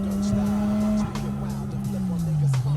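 A Toyota with a misfiring engine driven on the road, a close steady engine drone with uneven stumbles and hiccups, the pitch sagging near the end, heard from inside the car.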